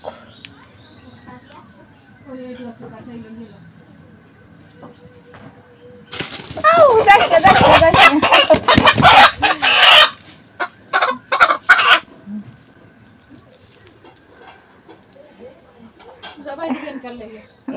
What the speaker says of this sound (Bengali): মুরগি ধরতে আইছি, দেখি রাওয়া রাওয়া মোরগ, দেশি মোরগ।